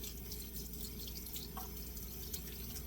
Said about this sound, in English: just rinse your brush out so it doesn't get, the egg doesn't dry on it and make it stiff